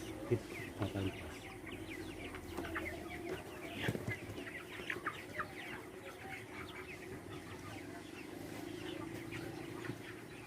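About 3,200 chickens cluck and chatter together in an enclosed poultry house, a constant low murmur of fowl with occasional sharper calls.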